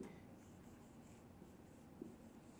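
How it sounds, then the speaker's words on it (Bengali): A pen writing by hand on paper, a steady faint scratching with small rhythmic strokes running throughout, quiet and close, no talking. "তাহলে আসেন সুন্দর করে লিখি"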